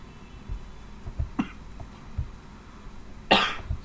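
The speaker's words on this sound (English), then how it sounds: "Sorry for my cough and cold." A person with a cold coughs a few times, with soft muffled coughs followed by one louder, harsher cough near the end, in a quiet indoor setting.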